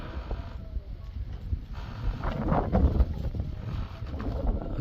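Pigeons coo softly outdoors, a few low calls near the middle over light wind rumble, with no one talking.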